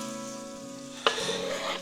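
Chicken pieces for a buckwheat ragout hit a hot pan: a soft steady sizzle swells suddenly into a louder, fuller frying hiss after a sharp drop.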